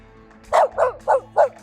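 A dog barks four times in quick, evenly spaced succession, loud and close.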